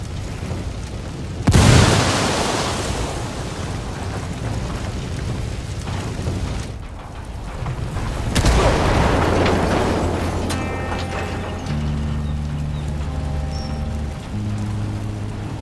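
Grenade blasts in a first-person shooter video game: two loud, deep booms a few seconds apart, each trailing off into rumbling debris, with steady game ambience and tonal interface beeps toward the end.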